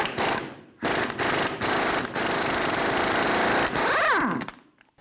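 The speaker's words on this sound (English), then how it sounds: "Using a 35mm socket," An impact gun spins a 35mm socket to break loose the axle nut on a 2005–2015 Toyota Tacoma. Several short, loud bursts of rattling hammering are separated by brief pauses, and one long burst ends in a rising then falling whine.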